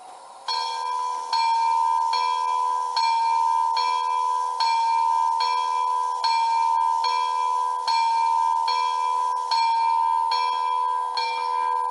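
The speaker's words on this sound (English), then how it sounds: "we've got the bell happening now" Model steam locomotive bell on a D&RGW C-19 ringing in even, repeated metallic strikes over a steady tonal hum, clear and close with no talk.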